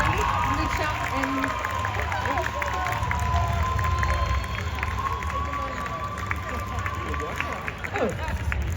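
Cosplay contest audience applauding and cheering for the jury at the Mad in Asia 2025 convention, a dense sustained wash of clapping and crowd noise that runs steadily throughout.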